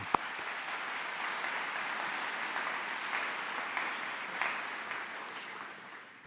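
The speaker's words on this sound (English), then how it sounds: "As the most important people in the room, please give yourselves a round of applause." Audience applause at the opening ceremony of the ECR 2023 radiology congress, a large hall full of even, sustained clapping at moderate distance, continuous from start to end.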